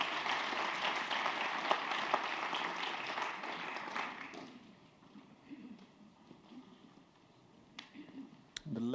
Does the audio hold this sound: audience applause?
yes